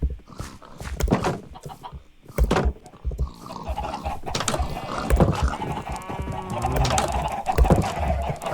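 Chickens in Minecraft cluck and squawk in short bursts amid other farm-animal bleats and game noises, irregular and fairly close with no talk.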